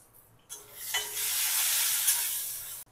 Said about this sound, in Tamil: இப்போ நம்ம கட் பண்ணி வச்ச தக்காளி சேர்த்துக்கலாம்.